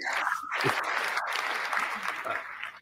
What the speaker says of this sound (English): it was applause